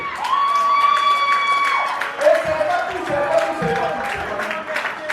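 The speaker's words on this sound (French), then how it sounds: "applaudissez" An audience at a dance party claps and cheers in a steady stretch of crowd noise while a voice talks over it in French.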